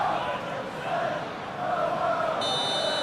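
Steady roar of a passionate stadium crowd at a night football match in the PES video game, loud and continuous throughout, with a bright electronic tone cutting in near the end.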